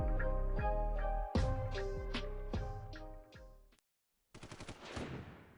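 Bursts of machine gun fire crack out in loud rapid volleys with echoing tails, a brief pause of silence, then another dense rattling volley, with no talk.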